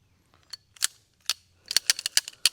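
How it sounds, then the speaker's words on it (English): Magazine dropped from a Staccato XC pistol: a string of sharp, close metallic clicks and clacks, a few scattered at first and then a rapid cluster near the end, with no talk. "but I'm gonna drop my mag."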